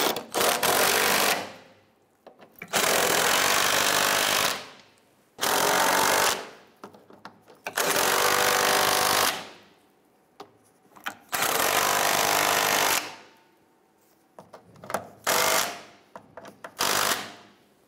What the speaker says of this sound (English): let's go ahead and tighten down the outside bolts first.